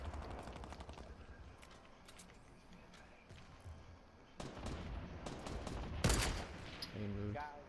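LMG gunfire in the video game Fortnite, with sustained automatic bursts that grow louder and denser toward the end, layered over other game sounds with no talking.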